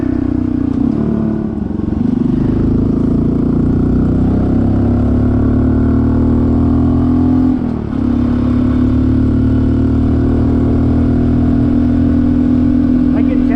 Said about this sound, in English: the little bike has done fantastic with this big bore kit in it, going up these mountain roads